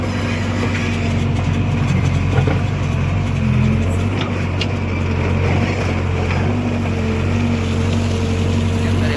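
A loud, steady tractor diesel engine drones continuously at close range, a low rumbling hum that never lets up.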